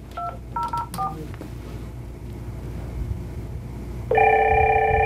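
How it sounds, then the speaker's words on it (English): An IP phone keypad is pressed to dial an extension, giving a few short, distinct DTMF tone beeps near the start, then a quiet pause before a steady, louder call tone begins near the end. "we're just going to simply press the extension number"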